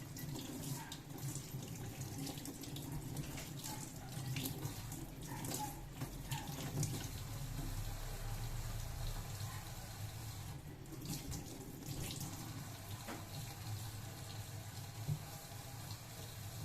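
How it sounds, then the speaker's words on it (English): A tap runs steadily as hands and lower forearms are wetted for surgical scrubbing, a faint continuous splashing stream with small shifts as the hands move under it, no voices. "Wet hands and lower forearms thoroughly with running water"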